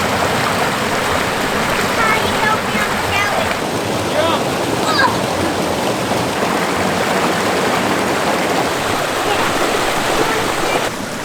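Creek water rushes and burbles steadily up close in the Barrington Tops bush of New South Wales, a loud continuous wash throughout.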